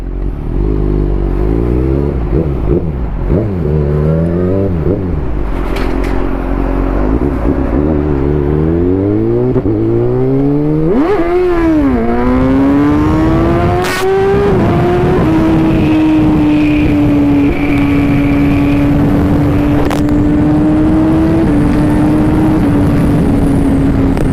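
A group of Mazda cars at a late-night meet-up drives past, engines loud and revving with rising and falling pitch as they sweep by close, then fading into a steadier drone.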